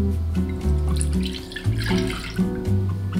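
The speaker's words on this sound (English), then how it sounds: "Pour warm milk," Warm milk is poured into a bowl while making garlic and herb torn bread, a soft steady liquid trickle with quiet music playing underneath.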